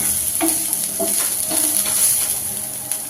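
Cabbage stir-fry being stirred in a hot pan, with steady sizzling and a few distinct scraping strokes of the spatula, close and clear with no talking.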